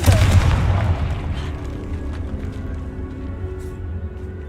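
A Confringo spell explodes in a Harry Potter video game with a loud, booming blast at the start, followed by a long, rumbling decay.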